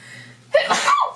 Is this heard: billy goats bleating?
no